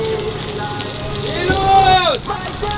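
Artificial rain pours down on a film set as a steady, loud hiss, with a brief rising and falling tonal sweep partway through and voices faintly present.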